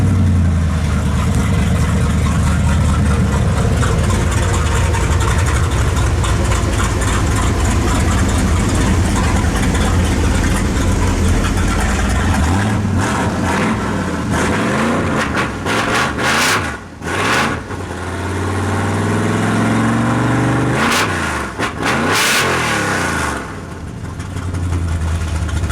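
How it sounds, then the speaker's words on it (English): A 451 Mopar stroker V8 engine from a 1973 Dodge Charger roars loudly and continuously on a dyno, then drops to a choppy idle and is revved hard in sharp bursts, with no talking. "The exhaust note is definitely a lot choppier, more aggressive than."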